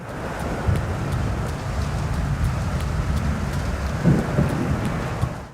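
Steady rain with rolling thunder in the Land of Storms area of the video game Hollow Knight, a dense, continuous downpour with low rumbles swelling near the middle and again toward the end.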